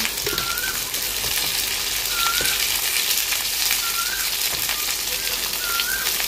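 Curry frying in a pan after salt and turmeric go in, a steady broadband sizzle filling the whole stretch at even loudness, with faint chirping bird-like whistles recurring in the background.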